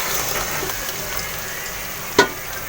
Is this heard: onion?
yes